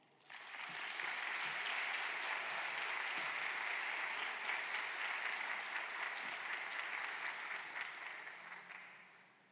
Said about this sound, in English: I want you to welcome to the stage now, with a round of applause, our very own Lady McPhee